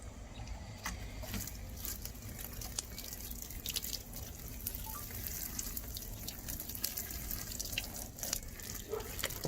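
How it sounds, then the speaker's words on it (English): Water trickling and dripping onto a cold compost pile outdoors, a steady soft pour with scattered drips against low background rumble. "we're going to water this in."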